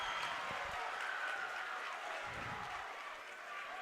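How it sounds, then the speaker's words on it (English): Crowd at a high school basketball game between Moundridge and Hillsboro cheering loudly, a sustained roar of voices without a break, with commentary talk over it. "Crowd is going absolutely ballistic."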